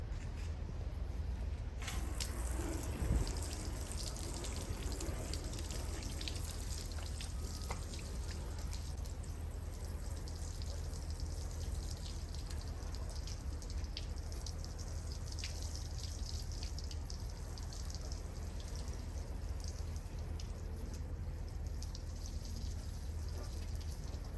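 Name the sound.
rinsing residue off a vehicle part with water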